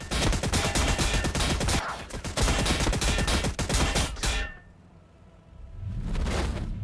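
Dense, continuous gunfire from a Warhammer 40,000 tank battle video game pounds loudly for over four seconds, breaks into a brief lull, then another heavy burst erupts.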